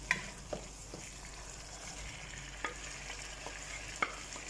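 Fried taro root (arvi) is added to a masala cooking in a pan. A soft, low sizzle runs steadily, broken by a few quiet clinks and scrapes of a utensil, with no voices.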